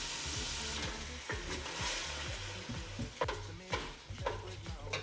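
Red wine and white vinegar hiss and sizzle in a hot pan of onions, a steady bubbling fry broken by a few sharp stirring scrapes, with a low humming layer underneath.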